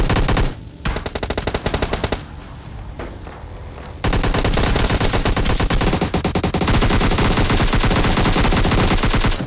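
Video game gunfire from PUBG Mobile Lite crackles in sustained automatic bursts with a brief gap near the start, then continuous rapid shots that grow louder and denser, loud and close.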